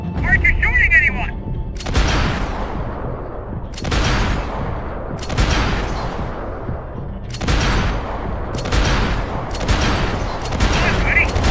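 Gunfire in Max Payne 3 comes as repeated loud bursts of shots, roughly every two seconds, each a sharp crack trailing into a decaying boom, in a sustained firefight.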